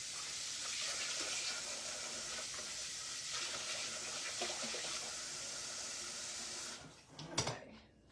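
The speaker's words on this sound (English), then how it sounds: "Put some water in my little" Tap water runs steadily into a small bowl in a home kitchen, a continuous hissing splash that cuts off near the end with a brief clatter, no voices.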